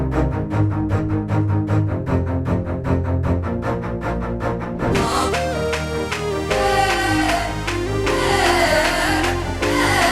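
Short, rhythmic staccato cello notes from a Session Strings Pro 2 preset pulse evenly, then a fuller arrangement with dense, bright layered sound takes over for the second half.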